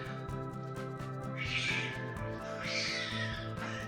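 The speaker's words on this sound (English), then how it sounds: "we have cats fighting outside" Cats fighting outdoors, heard as two drawn-out yowling cries over a steady tonal music bed, somewhat distant and partly masked.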